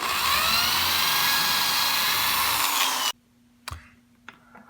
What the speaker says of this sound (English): I started with some pre-drilling after aligning them with the 2x4s underneath